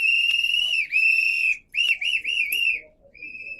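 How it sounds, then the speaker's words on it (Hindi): Whistle blown in several shrill, piercing blasts at a public speech event, some long and steady, others short and warbling, loud and clear with brief gaps between them. "सीटी बजा के ही होनी चाहिए।"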